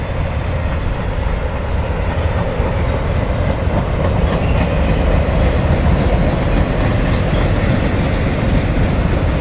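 A long mixed freight train with many autorack cars rolls past steadily and loud, its wheels and cars producing a continuous rumbling roar with faint clicking throughout, no voices.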